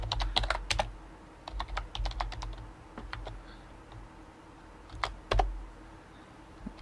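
Typing on a computer keyboard that lacks a UK layout, with bursts of crisp key clicks in an uneven rhythm, close and clear, one louder cluster near the end, no voice.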